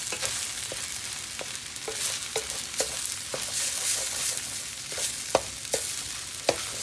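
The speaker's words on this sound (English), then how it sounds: "Stir this up real well." A wooden spoon scrapes and knocks in a pan of Chinese fried rice with egg, giving irregular close clicks and scrapes over a constant frying sizzle.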